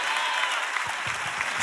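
An audience at a church sermon claps steadily in a broad hiss of overlapping hands, with faint low thumps or voices stirring beneath toward the end.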